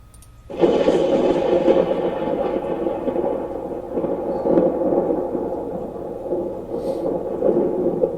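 Thunder from an approaching storm breaks in suddenly and rolls on as a loud, sustained, deep rumble with no talking.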